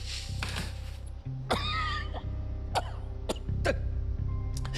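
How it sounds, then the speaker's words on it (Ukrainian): Several harsh, separate coughs close up, one followed by a throat-clearing rasp, with a steady low hum in the background. "Що ж то за кашель сьогодні у всіх такий?"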